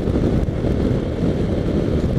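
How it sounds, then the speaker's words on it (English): Strong wind buffets the microphone during a bike ride in a constant low roar, steady and close, with no other sounds standing out. "Kind of getting windy out here."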